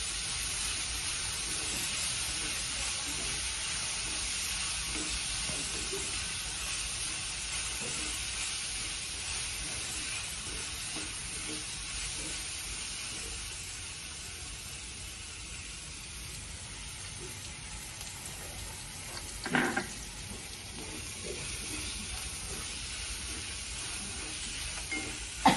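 Crushed green chillies fry in a pan with a faint, steady sizzling hiss that runs throughout, broken by a brief clatter near the end.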